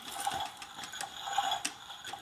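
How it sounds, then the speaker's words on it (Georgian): A toy washing machine runs with a faint, rapid ticking and ratcheting of small plastic gears, repeating in quick irregular clicks at close range. "ეს სარეცხი მანქანა."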